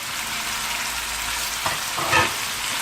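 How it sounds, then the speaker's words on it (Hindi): Meat sizzles steadily in a hot pan, a continuous crackling hiss with a few brief stirring scrapes and pops near the end. "और चापों को ज़रा सा अच्छे से फ्राई करेंगे।"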